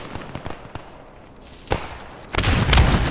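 Grenade blasts and gunfire in the WWII shooter Post Scriptum: scattered sharp shots early, then a heavy boom near the end followed by rumbling, loud close bursts.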